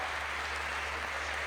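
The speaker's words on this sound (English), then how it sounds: "Round of applause for Alex Megos" An audience at a bouldering competition claps for a climber in the lead, a brief wash of steady applause heard at a distance.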